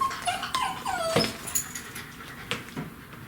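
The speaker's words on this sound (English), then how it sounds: "If you hear a little squeaking, oops, it's my dog, Cinnamon." A small dog whimpers with high, thin squeaks and yips, several short cries over a low background hum, fairly close.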